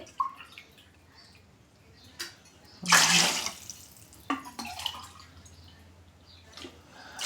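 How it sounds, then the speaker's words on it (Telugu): Water pours briefly into a pot for pulao in a short splashing gush, followed by faint drips and clinks in a quiet setting. "ఆరు గ్లాసులు వాటర్ వేసుకుంటా"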